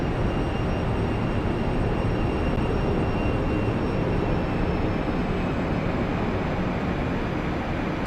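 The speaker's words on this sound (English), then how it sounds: "So flying this aircraft" Steady, loud, continuous roar of a Phenom 300E private jet in flight in Microsoft Flight Simulator 2024, a broadband engine and wind rush holding even throughout with faint high whines.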